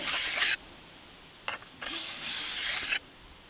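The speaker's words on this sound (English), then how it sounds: "and file that burr" Hand file scraping a burr off the edge of a chainsaw bar: two long rasping strokes, one short one between them, close and fairly loud, with quiet gaps and no talk.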